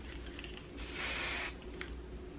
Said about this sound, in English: We're gonna go do a little hairspray